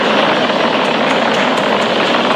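SpaceX Falcon 9 rocket engines roar during a Dragon launch as the vehicle nears maximum dynamic pressure: a loud, dense, continuous rumbling roar with no pauses and no talking.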